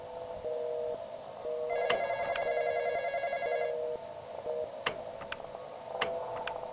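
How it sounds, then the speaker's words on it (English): Video game telephone ringing in repeated electronic bursts with a high bell-like shimmer, closely miked, over a steady droning background hum, with a few sharp clicks near the end. "It's the phone. Answer the phone."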